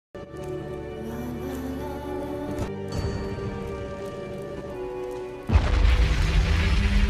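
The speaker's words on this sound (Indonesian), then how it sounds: "Salah satu dari mereka kemudian menemukan granat dan lebih memilih meledakkannya di dalam sana bersama mereka." A grenade explodes in a film scene. A deep, loud boom bursts in suddenly near the end, following a stretch of sustained tonal soundtrack, and it rumbles on heavily to the close.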